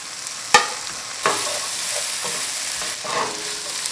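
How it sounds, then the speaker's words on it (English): Vegetables stir-fried over high heat in a pan for spicy Korean seafood noodle soup, giving a steady sizzle with a few sharp clatters of the spatula scraping and tossing, close and moderately loud, with no voices. "You gotta cook it over high heat. Until red and shiny, you just stir fry."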